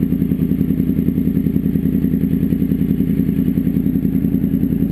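A motorcycle engine runs steadily and close, with a loud, rhythmic low-pitched throb that holds without a break. No speech is heard.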